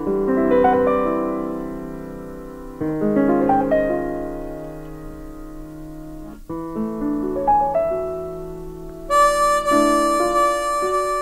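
A solo piano intro from an album, with rich sustained chords struck in several phrases, ringing and decaying, closing on brighter high-register voicings.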